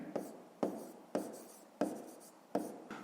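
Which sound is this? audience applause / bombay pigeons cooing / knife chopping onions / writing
writing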